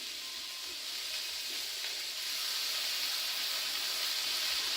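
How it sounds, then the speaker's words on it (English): Steady sizzling hiss of a chicken and vegetable stir fry warming with sweet chilli sauce in the pan, a continuous bright frying crackle that swells slightly louder partway through, with no talking. "We're just going to heat this until it just gets a little bit warm"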